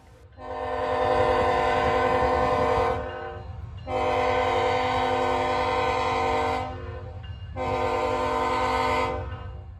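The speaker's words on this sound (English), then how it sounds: "the rear DPU had its horn sequencer stuck on" A freight train's rear DPU locomotive, its horn sequencer stuck on, blares three long sustained horn blasts with short gaps between them, loud and close over a low rolling rumble of railcars.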